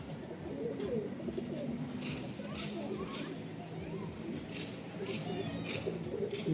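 Andhra pigeons in a loft, with steady soft cooing and fluttery bird sounds running throughout over a dense background murmur, while people talk nearby.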